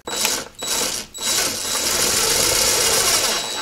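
Drywall screws being driven into wooden shim blocks inside a DIY battery cabinet for a Chevy Volt Gen 2 powerwall, a loud close whirring drive broken by two short pauses and then one long continuous run.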